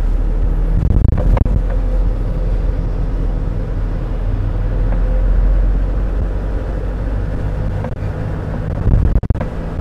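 Steady low engine rumble from inside a car accelerating straight ahead during a driving lesson, continuous and fairly loud, with faint wind noise and a brief clunk near the end.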